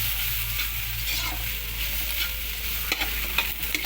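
Sinangag, garlic fried rice, stir-fried in a pan, a steady close sizzle under repeated spatula scrapes and clicks that grow more frequent toward the end, with no voices.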